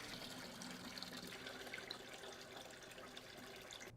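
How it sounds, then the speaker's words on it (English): Water runs steadily through the supply hoses of a stacked washer being installed, a faint continuous splashing and trickling with no voices. "Now run water through the hoses for a few seconds to clear the lines."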